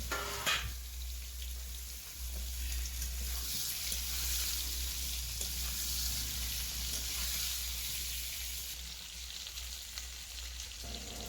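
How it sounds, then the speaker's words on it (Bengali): Ridge gourd frying in oil with nigella seeds and slit green chilies, a soft, continuous sizzle heard close up, with occasional faint stirring and no talking. "লঙ্কাটা হালকা একটু ভেজে নিয়ে ওর মধ্যে দিয়ে দিচ্ছি ঝিঙ্গেগুলো"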